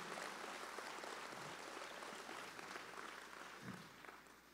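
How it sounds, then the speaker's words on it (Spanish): A church congregation at a Sunday service applauds for Jesus, a broad, sustained roar of many hands clapping throughout the room, steady and full before tapering off slightly at the end. "el mejor aplauso del fin de semana a Jesús"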